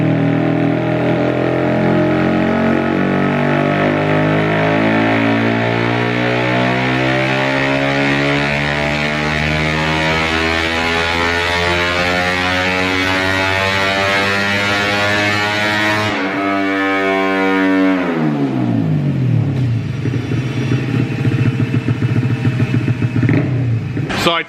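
Honda Grom with a Koso 170cc four-valve engine running on a dyno, a loud sustained motorcycle roar sweeping steadily upward in revs, then chopping off and falling away before a brief final rise.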